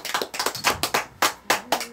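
Church congregation clapping hands during a Wednesday service, about nine distinct claps in an uneven rhythm, fairly close and unaccompanied by talk.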